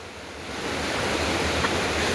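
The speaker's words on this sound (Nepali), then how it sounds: "खोला, एकैछिन खोलाको हल्ला सुनिन्छ" A river flows nearby as a steady, broad rushing wash of water, gently swelling louder over a couple of seconds with no voices.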